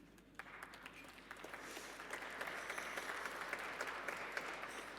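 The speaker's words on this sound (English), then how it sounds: "Thank you, brave applauders." Audience applause for a philosopher's reading of a Le Guin story, a steady wash of clapping that builds slightly and holds at moderate level for about five seconds, with no speech over it.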